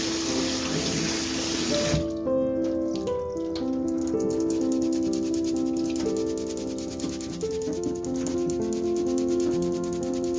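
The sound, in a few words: rinsing dried quinoa under running tap water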